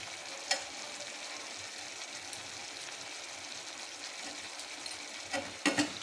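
Spice masala with coriander, cumin and turmeric powders fries in oil for a vegetable khichuri, a soft steady sizzle with occasional faint scrapes of stirring near the end.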